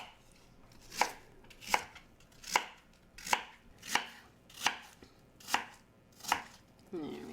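Knife chopping peeled apples on a board, about nine sharp, evenly spaced cuts, close and clear, with no talking.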